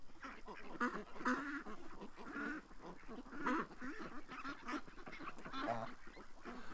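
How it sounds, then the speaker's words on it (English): A pet goose indoors honks and quacks repeatedly in short nasal bursts over about seven seconds, close and moderately loud. "Look at my goose, eh? He's watching us."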